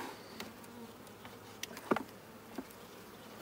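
Honey bees hum from an opened hive during re-queening and splitting, a faint steady drone with a few brief louder buzzes as individual bees pass close by.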